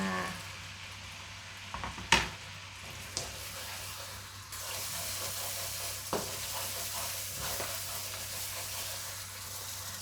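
Curry paste for a Thai green curry with pork balls and eggplant being stir-fried in a pan: a steady close sizzle and hiss runs throughout, broken by a few sharp scraping knocks of the utensil against the pan.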